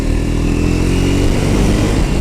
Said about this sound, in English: And that exhaust note